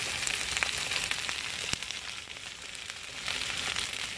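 Okra and fresh garlic fry in a pan with a constant, close, crackling sizzle, broken by a few small pops and faint stirring taps.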